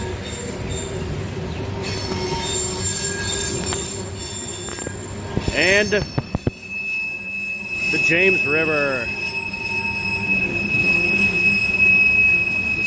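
A freight train passes along tracks beside a cemetery overlooking the James River in Richmond, rumbling steadily throughout with bursts of wheel squeal partway through and a voice talking over the rolling cars.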